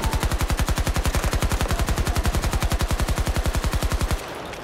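Gunfire in a shooter video game: a long, loud, unbroken burst of rapid automatic shots at a steady fast rhythm for about four seconds before it cuts off, with no talking over it.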